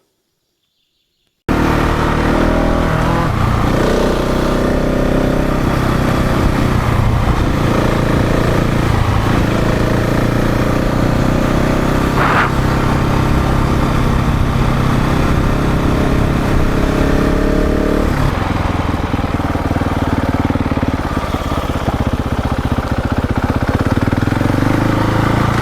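A trail motorcycle on a touring ride along the Camino del Cid in Spain runs continuously after a short silent start, its engine note rising and falling with revs and shifting tone partway through, loud and close with no talk.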